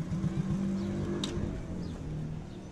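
A motorcycle engine, the bike having just fallen and stalled, runs with a steady low drone and a faint rev. It sounds close and fairly loud, with no talk.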